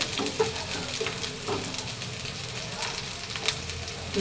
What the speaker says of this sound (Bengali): ডাটা শাক ভাজি করছি